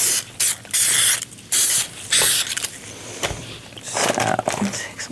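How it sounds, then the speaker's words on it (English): Ballistol cleaner is sprayed into an AR-15 lower receiver in several loud, close hissing bursts with short pauses between them. "Just gonna spray some of the ballistol in here"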